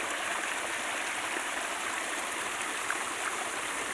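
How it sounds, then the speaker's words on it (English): Garden waterfall spilling from a long winding spillway into a lower pond, a steady broadband rush of falling water, close and continuous without pause. "the big waterfalls"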